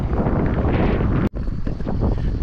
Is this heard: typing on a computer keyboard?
no